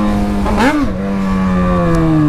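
A motorcycle exhaust revs loudly, holding a steady, loud engine drone that swells into one sharp rising-and-falling rev before settling back to a high idle.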